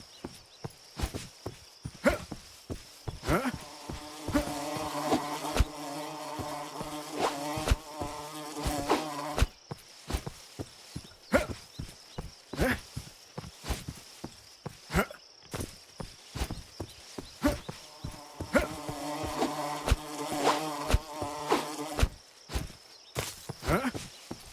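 Buzzing bees in the fantasy tavern-management video game Ale & Tale Tavern, a humming drone that swells and fades in two stretches, mixed with a steady run of rhythmic footsteps and scattered game effects.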